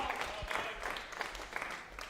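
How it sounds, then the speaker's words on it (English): A darts crowd at the MODUS Super Series Women's Week final applauds and cheers in a short, dense burst of clapping, with a voice talking over it. "good to hear the crowd here at the Modus Super Series"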